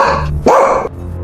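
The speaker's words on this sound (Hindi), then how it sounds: "तभी अचानक गांव में एक बड़ा कुत्ता आ गया और नंदू के पैरों के पास आकर भौंका।" A big dog in a village cartoon barks once, a single loud, close, full bark standing out over a steady low background bed.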